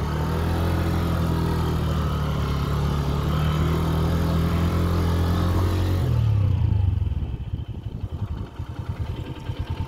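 A motorcycle engine runs steadily and loudly up close as the bike bogs down in mud on a coastal track near Gwadar, then drops to a rough, uneven idle toward the end.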